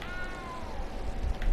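A cat meows once in the video game Hogwarts Legacy: a single drawn-out, falling wail that sounds almost like a crying baby, clear over low game ambience and rumble.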